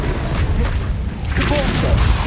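Bombarda blasting spell from the Hogwarts Legacy video game, a deep booming explosion with rumbling low-end impacts sustained across the whole moment, loud and close, swelling again near the end.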